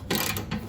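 A ratchet wrench loosens a muffler bolt on a 2019 Indian Chieftain Limited motorcycle, giving a couple of quick, close metallic clicking pawl strokes in a brief burst.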